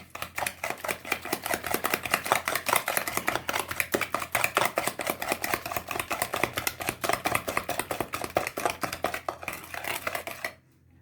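Sugar and eggs are whisked briskly in a bowl for tiriliçe dessert, a rapid, steady run of close clattering beats that stops abruptly near the end.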